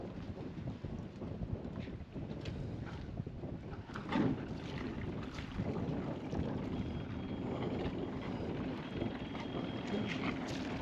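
Low, steady hum of a sailboat's outboard engine driving the boat forward in an anchorage in the San Blas Islands, continuous and moderately close, with wind noise over the microphone.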